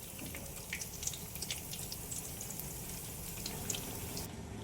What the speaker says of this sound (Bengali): এইভাবে আমরা বাকি রোলগুলো ভেজে নেব।